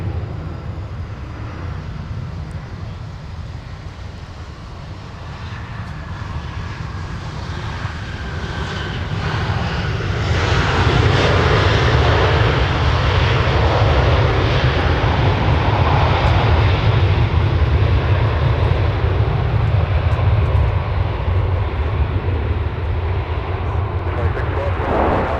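An airliner takes off from runway 17 at MSP airport, its engine roar building from a distant rumble to a loud, sustained thunder that holds steady to the end.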